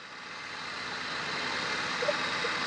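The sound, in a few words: Maruti Wagon R engine running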